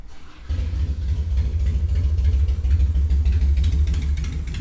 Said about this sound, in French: Avec le son de la moto.